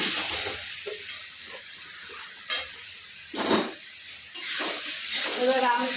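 Mango pieces for a sweet, sour and spicy pickle sizzle loudly in a hot pan, a close hiss that surges in bursts as they hit the oil and are stirred.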